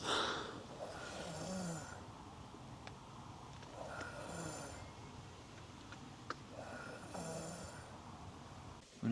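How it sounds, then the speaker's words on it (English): Highland cattle breathe heavily outside a van, with faint, slow, rhythmic snorting exhalations recurring about every three seconds in a quiet, night-still setting. "hopefully these heavy breathing cows have moved on"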